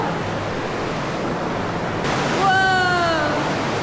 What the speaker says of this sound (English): we can just hear the waterfall